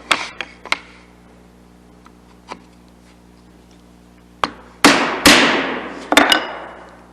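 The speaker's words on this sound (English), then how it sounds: "So as I'm chiseling" A chisel struck with a mallet while cutting hand-cut dovetail tails in wood: sharp, separate knocks, a few light taps early, then a cluster of louder ringing blows near the end, heard alone.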